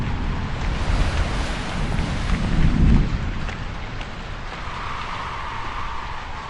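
Heavy rain pours in the video game Sinking Island, with a low thunder rumble swelling near the middle, steady and loud with no voices.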